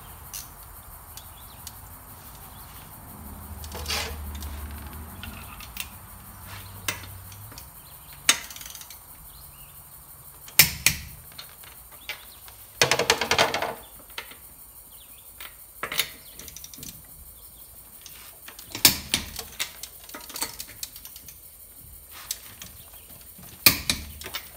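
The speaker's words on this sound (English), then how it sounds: "So I'm going to set my torque wrench at 100 foot-pounds." A torque wrench set to 100 foot-pounds tightens wheel lug nuts, giving scattered sharp clicks and knocks with pauses between them, moderately close and with no talk.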